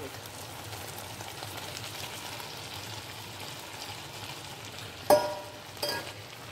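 Vegetables frying in a pan for chilli chicken, a steady soft sizzle with faint hiss throughout, then two sharp clatters near the end as chicken is added.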